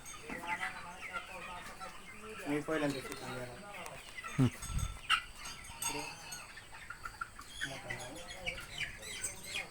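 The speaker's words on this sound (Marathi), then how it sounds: "आज आम्ही कोंबडीच्या प्लॉटमध्ये आलेलो आहे" Chickens in a poultry plot cluck and squawk in the background while a person talks over them, with a brief low thump midway.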